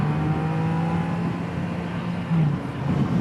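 Yamaha XSR900 motorcycle engine held high in its rev range at low road speed, a steady close-up drone that lifts briefly near the end, heard alone without talk.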